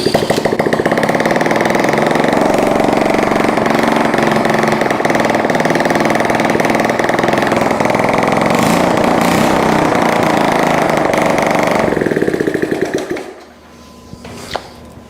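A vintage Honda CT70 motorcycle engine runs with no exhaust fitted after an electric start, a loud steady mechanical drone that holds for about twelve seconds and then cuts out, leaving a short quiet tail.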